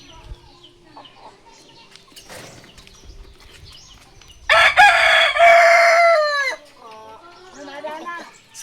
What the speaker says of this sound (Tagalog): we have one coconut tree inside in our chicken coop